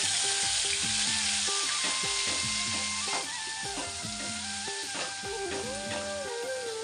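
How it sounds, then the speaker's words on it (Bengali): Onion paste fries hard in a pan, a loud, continuous sizzle and hiss with faint stirring scrapes and clinks underneath, up close and without voices. "তো আমার পেঁয়াজ ভাজা হয়ে গিয়েছে লাল লাল করে"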